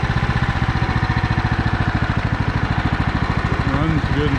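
A Husqvarna 1538 lawn mower engine settling to idle, a loud, close, rapid steady putter with even pulses, a voice speaking briefly over it near the end.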